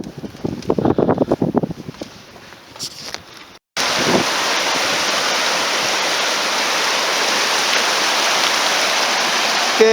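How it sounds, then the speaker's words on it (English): Colorado River water rushing loudly and steadily in the Grand Canyon, a dense continuous roar that takes over after a few seconds of softer, gustier sound. "We're trying to cross this river since they removed the bridge that got washed away."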